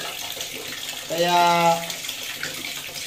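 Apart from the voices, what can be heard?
water flowing from DIY auto-refill water tank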